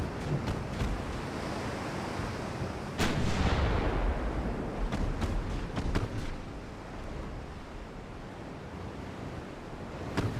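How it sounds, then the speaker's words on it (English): Naval guns firing in the warship game Ultimate Admiral: Dreadnoughts, set in 1890: a heavy boom near the middle, then several sharper cracks, all over a steady wash of ocean waves and wind. "We're still firing."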